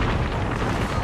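Bangalore's ultimate strike in Apex Legends erupts into a loud, dense roar of overlapping explosions, a continuous booming rumble filling the whole second.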